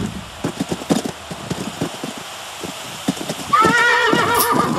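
Horses in the Western game Call of Juarez: Bound in Blood, hooves clip-clopping in an irregular rhythm, then a loud close whinny rising near the end.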